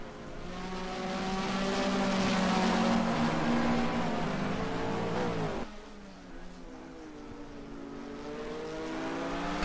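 GT3 race cars, an Audi and a Porsche, in a sim racing game at Donington: several engines wail together as they climb in pitch, then drop abruptly at a gear change before building again, loud and continuous.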